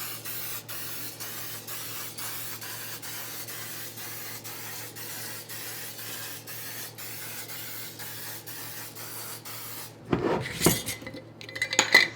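Baking spray hissing into old muffin tins, a long steady aerosol spray with soft rhythmic pulses, followed near the end by clattering metal pans being handled.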